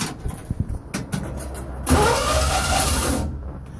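A 1962 Willys FC150 with a 327 V8 on choke cranks in short whirring bursts, then catches and fires up into a loud, steady rumbling idle up close.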